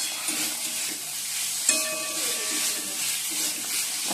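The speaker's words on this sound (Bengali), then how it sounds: "আর এদিকে মশলাটাও কষাচ্ছি।" Masala of nigella seeds, ginger paste, green and Kashmiri chillies, turmeric, cumin and coriander powder sizzles in a pan, making a continuous hissing fry with one sharp metallic clink midway and a soft voice faintly underneath.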